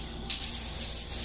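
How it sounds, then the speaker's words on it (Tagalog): Water from a hotel shower with a heater sprays steadily at close range, a constant hiss with small splashing surges, no voices. "Yan yung shower niya."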